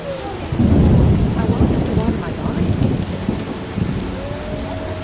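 Heavy rain pours down in a thunderstorm in the video game The Witcher, with a loud rumble of thunder rolling in early and dense, steady rainfall continuing close by afterward.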